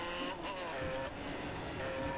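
A motorbike accelerating in the video game GTA San Andreas, a steady high-revving engine whine held close and loud for a couple of seconds.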